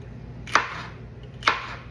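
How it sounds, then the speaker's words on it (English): A knife chopping bell peppers on a cutting board for chorizo breakfast tacos, two distinct crisp chops about a second apart, close and clear over quiet kitchen background, with no talking. "I just cut the end piece and then chop them up like that."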